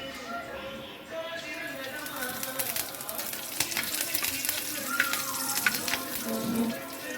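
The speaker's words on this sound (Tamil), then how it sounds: "கடுகு போட்டு தாளிச்சிக்கலாம்" Mustard seeds sizzle and crackle in hot oil for tempering, over onion and garlic already fried in the pan, a steady close frying hiss with sharp pops and stirring scrapes throughout.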